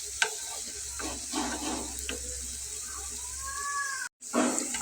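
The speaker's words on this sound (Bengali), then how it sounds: "তো আমি একটু গোল্ডেন করে ভেজে নেব।" Bread and potato snacks deep-fry in hot oil until golden, giving a bubbling sizzle with a few utensil clinks and a faint low hum. The sound cuts out briefly near the end, then the frying returns.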